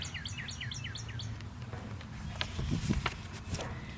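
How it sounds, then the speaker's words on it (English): A cartoon bird gives a quick run of bright, high chirps, about half a dozen in a row, fairly faint, followed by soft scuffing and tapping sounds. "Look, even this bird's laughing at the monkey."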